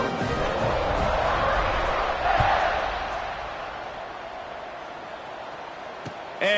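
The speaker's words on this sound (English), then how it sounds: "this crowd is buzzing after that last score" A football stadium crowd buzzes after a score, a steady broad roar of many voices with a brief swell partway through, holding at a constant level throughout.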